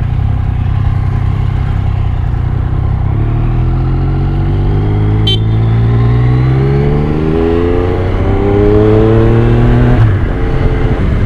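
A brand-new Yamaha MT-09 motorcycle engine revs up loudly through rising pitches as it accelerates away, close by, with a brief clatter partway through.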